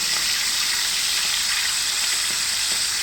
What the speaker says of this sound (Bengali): তেলে ফ্রাই করা হচ্ছে।